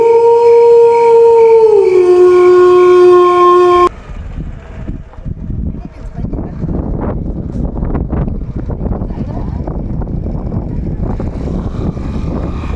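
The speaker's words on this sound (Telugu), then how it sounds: "వెళ్ళిన వెంటనే చిరు వాళ్ళ డాగ్ మ్యాక్సీ వెల్కమ్ చెప్పింది." Maxi, a dog greeting visitors, lets out a loud sustained howl with wavering pitch that cuts off after a few seconds, followed by rough windy rustling noise.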